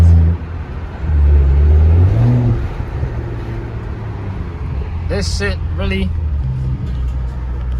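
Straight-piped exhaust on a BMW F10 rumbles loud and close, swelling in a rev early on then settling into a steady deep drone, with someone talking over it outdoors in the wind.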